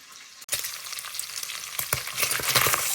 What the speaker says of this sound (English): we'll put this in to cook and brown in that bacon fat